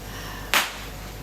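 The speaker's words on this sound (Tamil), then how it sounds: "ஏதோ ஒரு குழந்தை ஒரு பட்டாசு தூக்கி தூக்கி போடுது பாருங்க." A single sharp firecracker burst during Diwali, set off by a child, cracks once nearby and fades quickly against a quiet background.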